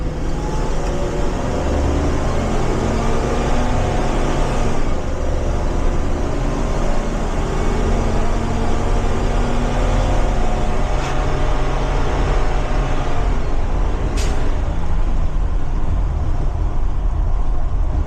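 A 2027 Blue Bird Vision school bus with a 7.3 engine held at full throttle, a steady loud roaring drone that stays constant throughout with no talking over it.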